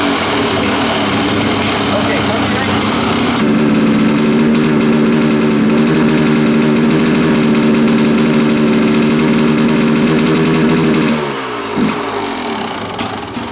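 A Kawasaki dirt bike engine runs with a loud buzzing idle, settling into a steady droning tone with harmonic hum before it cuts out near the end.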